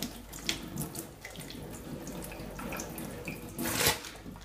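Running tap water rinses chocolate syrup off a shoe treated with a water-repellent spray, a steady close splashing stream with brief louder gushes near the end.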